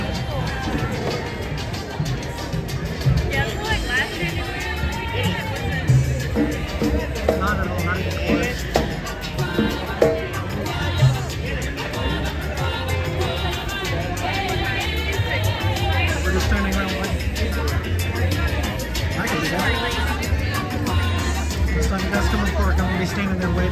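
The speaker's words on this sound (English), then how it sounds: "These crowds for Animal Kingdom in January." Crowd hubbub at Disney's Animal Kingdom theme park in January, a steady murmur of many voices with passing vehicle rumble, close talkers chatting over the background babble.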